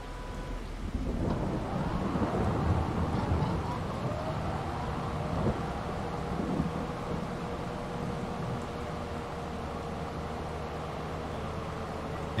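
Rain falls steadily with rolling thunder in Farming Simulator, a broad continuous downpour hiss under deep low rumbles that swell early and fade, no voices present.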